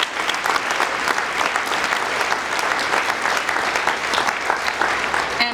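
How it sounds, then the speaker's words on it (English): A crowd claps steadily and warmly for students who spoke at a giving event, the applause sustained and even throughout with no pauses. "can we have another round of applause"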